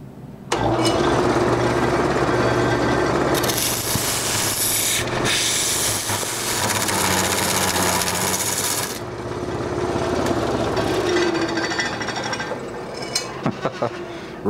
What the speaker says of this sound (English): This is the negative rake round cutter.